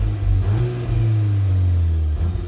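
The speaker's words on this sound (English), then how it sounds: "you do get some fun little pops and burbles from this exhaust system" A 2024 Volkswagen Golf R MK8 with a six-speed manual and its active exhaust in loud mode revs up close: a deep, strong engine note climbs and holds, then eases off, with no talk over it.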